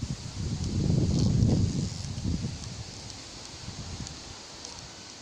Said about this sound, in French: Le vent fait chier là.